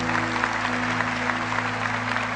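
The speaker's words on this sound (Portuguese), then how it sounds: "Aplauda a sua igreja católica." A Catholic church congregation applauds, a dense, steady patter of many hands clapping throughout over a low sustained hum, with no voices rising above it.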